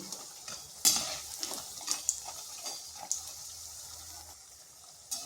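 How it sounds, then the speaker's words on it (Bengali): Bori lentil dumplings frying in a pan for shukto, a soft continuous hiss punctuated by repeated scraping and clinking as a spatula stirs them, fairly quiet and close. "বড়িগুলোকে এইভাবে নেড়ে চেড়ে লাল লাল করে ভেজে নিচ্ছি।"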